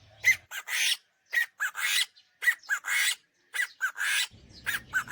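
A plump chicken squawks loudly and insistently at close range, a rapid run of about a dozen sharp, piercing calls in bursts, with a low rumble of background noise near the end.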